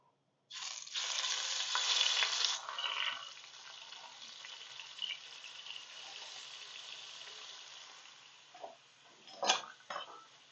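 Chicken pieces drop into screaming-hot oil in a pan and burst into a loud, bright sizzle. The sizzle eases into a steady frying hiss, with a few clinks and scrapes of the pan toward the end.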